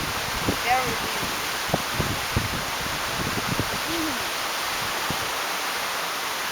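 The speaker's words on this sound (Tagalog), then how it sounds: "Very windy." Strong wind blows on a sunny day in Waikoloa, Hawaii, a continuous roaring rush buffeting the microphone throughout, with faint voices and small sounds barely showing through the noise.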